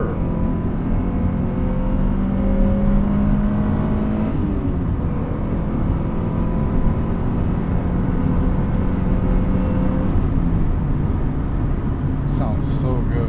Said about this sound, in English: Listen to that VTEC purr.